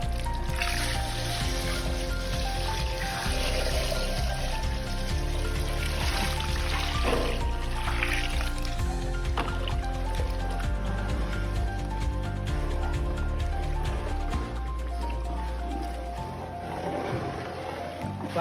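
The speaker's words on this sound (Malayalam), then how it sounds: "അപ്പോൾ തേങ്ങാപ്പര ഒഴിക്കാൻ പോവാണ്." Coconut milk pours into a large batch of prawn mango curry cooked for a crowd of about 1500, a steady watery rush that runs continuously under busy kitchen noise.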